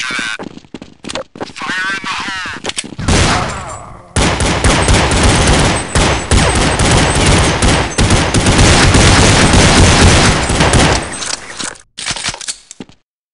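Counter-Strike 1.6 gunfire starts with a few sharp, separate shots, then swells into a loud, sustained rattle of rapid fire lasting several seconds before cutting back to scattered bursts.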